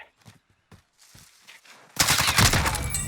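Gunfire in Call of Duty Warzone, starting with a few scattered sharp shots and footsteps, then a dense, loud burst of rapid automatic fire close by that carries on to the end.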